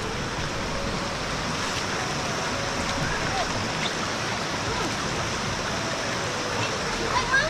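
A hill stream in Nepal rushing steadily over rocks, a constant broadband wash of flowing water close by with no pauses or voices.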